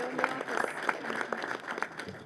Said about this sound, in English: I want everybody to give a rousing applause.